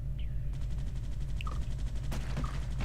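A sentry gun fires in the sci-fi shooter Space Beast Terror Fright, a rapid, even burst of shots over a steady low hum, then one sharper report.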